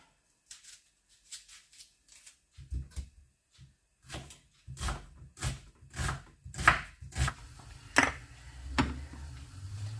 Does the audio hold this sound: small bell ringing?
no